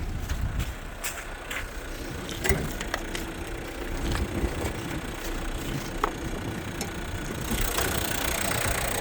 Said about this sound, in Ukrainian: чиста робота двигуна